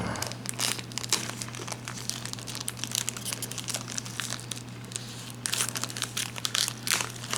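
Plastic wrap on an anime DVD box cut carefully with scissors, close crinkling and crackling of the film in irregular bursts, louder toward the end, with no talking.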